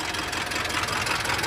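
A Mitsubishi Canter truck's 4M42 diesel engine runs steadily nearby, a continuous rough mechanical drone with a faint knocking texture; the engine has an injector fault with supply dropping out on cylinders 1 and 4.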